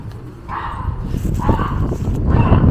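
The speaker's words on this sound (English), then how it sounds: "Some dogs are kicking off." Several dogs bark in the distance outdoors in Ormskirk town, England, a few bursts rising over a steady background rumble.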